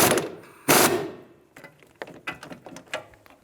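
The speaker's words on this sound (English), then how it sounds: "Hold the back of the stud while you snug down the nut." A sway bar link nut snugged down on a 2007–2011 Toyota Camry rear strut, with quick metallic ratchet clicks and tool clatter in irregular bursts after a louder opening rustle, close up.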